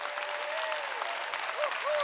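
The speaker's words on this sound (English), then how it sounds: "massive round of applause?" Dense audience applause fills a real estate conference hall, steady and loud throughout, with a faint voice briefly audible over the clapping.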